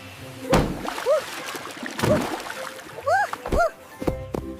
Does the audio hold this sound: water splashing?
yes